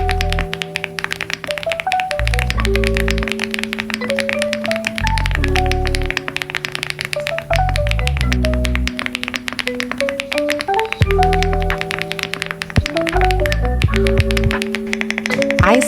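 A YUNZII AL75 keyboard with blue-gray tactile switches gives off a rapid, continuous clatter of fairly loud keystrokes over soft background music.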